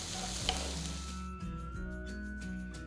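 Chopped garlic, onion, green chili and capsicum frying in oil make a steady close sizzle, with stirring scrapes and a brief clink, heard alone without speech.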